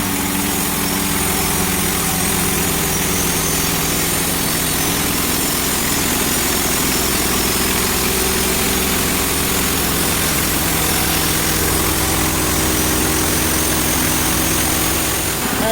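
A chainsaw engine runs steadily while slicing through a rotten birch log, a loud continuous buzzing drone close by with no breaks for the full length.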